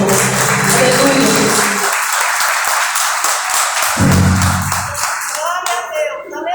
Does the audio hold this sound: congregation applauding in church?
yes